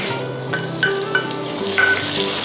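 Chinese sausage stir-frying in a hot pan, a steady close sizzle with soft scraping stirs and a few brighter clinks of the spatula against the pan, no voices.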